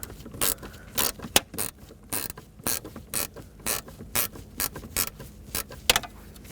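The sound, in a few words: ratchet with extension and 8mm socket turning bolt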